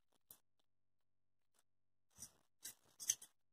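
Scissors trimming leftover fabric for crazy patchwork: one faint snip, a pause, then three or four close, crisp cuts in quick succession, alone in a quiet room.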